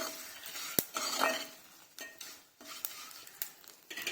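Fenugreek leaves tossed with turmeric and salt in a pan for a potato fry: irregular scraping and stirring strokes of a utensil with a sharp clink and a soft sizzle underneath.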